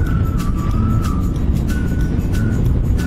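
Harley-Davidson Dyna Low Rider motorcycle cruising on an open road between York and Beverley, a steady loud engine drone mixed with wind rush and a faint tonal whine, no speech.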